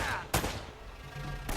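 Two sharp gunshots from the Uncharted 1 video game, each a loud close crack separated by about a second, over a steady background of game ambience.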